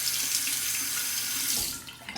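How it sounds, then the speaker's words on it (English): A Feather adjustable safety razor is rinsed under a cold running tap, a steady close splash of water that tapers off near the end. "temper it under the cold water."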